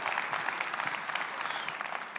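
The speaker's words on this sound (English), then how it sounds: "Applause for my friend, King James." Audience applause at a business presentation for a guest called King James, a thick, steady roll of many hands clapping close and loud for a couple of seconds with no speech over it.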